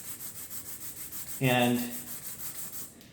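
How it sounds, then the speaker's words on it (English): Hand sanding of a Kettlewell chromatic harmonica part flat on abrasive: a soft, rhythmic rubbing back and forth, with a brief louder stroke in the middle. A single word is spoken. "I'm just doing a little sanding"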